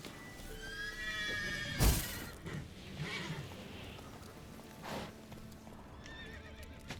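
A horse whinnies and snorts near the listener in The Witcher 3: Wild Hunt, with hooves clopping and shuffling around it; the sound is game-like and fairly quiet.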